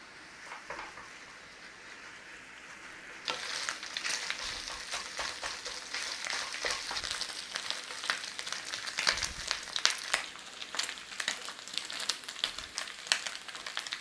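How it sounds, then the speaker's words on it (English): Eight bacon rashers crisp in a hot pan, giving a dense, crackling sizzle. The sound turns louder and busier partway through, with sharp pops and spits over a steady hiss and no talk. "so we're just going to cook away until we crisp up that bacon"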